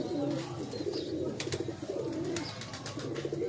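Pigeons coo in a steady, close run of soft, low, rolling calls, with a few brief sharp clicks scattered through.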